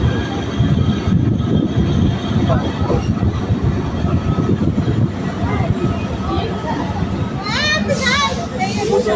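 A train at Bhanga Junction railway station in Faridpur, Bangladesh, rumbles and clatters steadily, with a high wheel squeal toward the end and people talking throughout.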